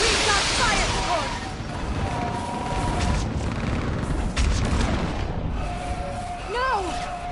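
Gunfire and explosions in the video game Mass Effect 3, with booming blasts, mechanical clatter and whizzing effects layered under a battle backdrop, fairly dense and continuous throughout.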